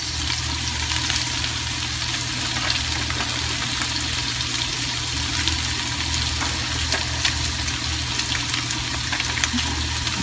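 Sausage and carrots fry for salt yakisoba, a loud, steady sizzle with crackling pops throughout and no voices.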